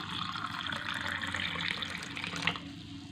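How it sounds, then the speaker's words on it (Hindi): Lukewarm water poured into a honey-and-lemon drink, a steady trickling stream that runs continuously at moderate level, close by, with no talking over it. "और इसमें हम डालेंगे हल्का गुनगुना पानी।"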